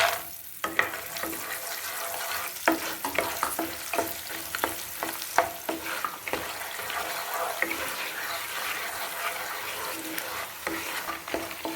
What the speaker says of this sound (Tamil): இதில் நம்ம இந்த சுண்டைக்காயை வறுத்துருக்கோம்